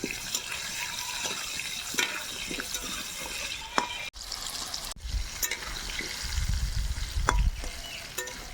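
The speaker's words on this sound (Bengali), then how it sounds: "সামান্য একটু করে হলুদ আর লবণ দিয়ে আলুগুলো আগে লাল লাল করে ভেজে নেব।" Potatoes frying in oil in a kadai with turmeric and salt, a steady broadband sizzle throughout with scattered sharp clinks and scrapes of stirring, a brief dropout near the middle and a louder low rumble of bubbling toward the end.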